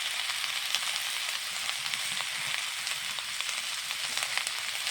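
Salt and turmeric powder sizzling in hot oil in a pan, a steady, even frying hiss with faint crackles, close and continuous with no talking.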